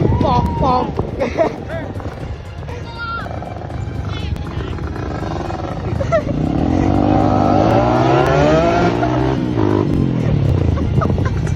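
A motorcycle engine revs loudly and repeatedly near a herd of cattle, rising and falling in pitch with a steady roar underneath.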